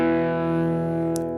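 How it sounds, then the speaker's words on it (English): Electric guitar through an amp set to maximum distortion on channel 2, a sustained, buzzing, heavily saturated chord ringing out steadily and loud, with a faint high click near the end. "So this is max distortion on the channel 2."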